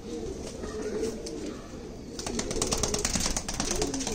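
Old-breed show pigeons cooing close by, soft repeated low throaty coos layered over one another, with some clattering and rustling in the second half.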